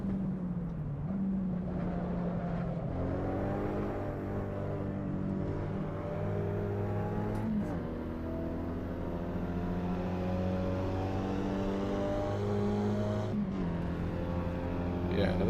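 Car engine in Assetto Corsa EVO, a steady loud drone with harmonics that rise and fall through the gears as the car drives. There are a few brief shifts, and it plays throughout with no talk over it.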